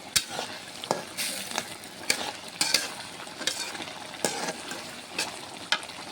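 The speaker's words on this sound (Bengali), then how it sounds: "আলুটা ভালো করে কষে নেবো।" Potatoes fry in a pan with salt and turmeric while being stirred for a fig curry. A continuous close sizzle is punctuated by sharp, irregular clacks and scrapes of the spoon against the pan.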